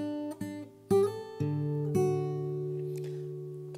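Acoustic fingerstyle guitar plays the third and fourth flows of the worship song Yeshua, a few plucked notes and chords ringing out and sustaining close and clear, with no voice.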